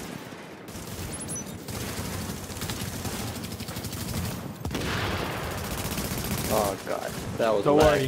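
Turrets open fire in the shooter game Rogue Chronicles, rapid bursts of gunfire rattling on and off while players talk excitedly over them.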